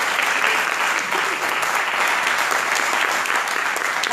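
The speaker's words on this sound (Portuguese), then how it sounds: "Você pode aplaudir ao Senhor?" A church congregation claps together for the Lord, a dense, steady wash of applause that stays loud and even for about four seconds with no break.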